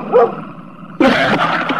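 Two sharp dog barks close by, one brief yelp followed by a louder, fuller bark about a second later.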